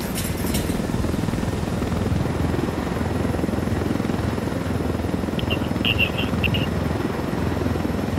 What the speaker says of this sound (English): Steal a helicopter.